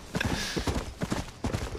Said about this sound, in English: Why is the donkey running off?